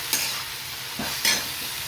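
Vegetables fry in a hot pan as a spoon stirs them, giving two or three close scraping strokes over a soft, continuous sizzle.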